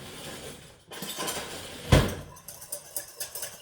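A whisk mixes a basic cumin-seasoned vinaigrette in a bowl, giving scraping clinks with one sharp knock at the midpoint, then a run of quick, rhythmic metallic taps close by.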